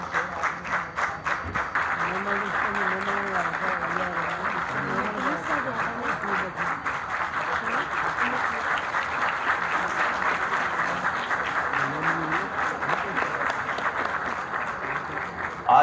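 A theatre audience at the Arts Council in Karachi claps steadily and densely for a long stretch, a full sustained wave of applause with voices heard over it.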